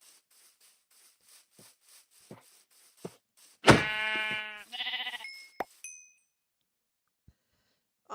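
Sheep bleat loudly in a video game, a long wavering call followed by a second shorter bleat, with soft clicks and a faint chime around them and no talking.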